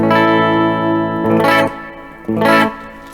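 Electric guitar through a solid-state Orange amp with digital reverb, miked in the same room: sustained chords ringing with a lingering reverb tail, two louder strums near the middle and end, with no talking.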